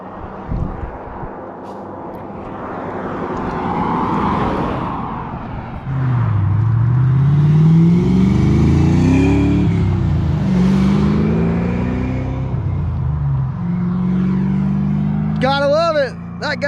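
Ford Mustang 5.0 pulling away on a road, its engine rising through revs with a deep, sustained drone that builds and fades, over wind noise, with a short higher whine near the end.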